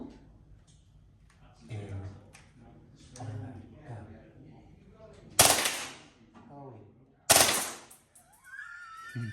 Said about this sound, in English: grab a few shots of the pistol as it does the burst fire